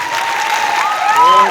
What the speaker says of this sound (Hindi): एक बार जोरदार तालियां बजाओ इन लोगों के लिए।